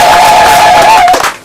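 A crowd at a centenary celebration cheers and applauds loudly and close by, with a sustained shout ringing over the noise before it fades out.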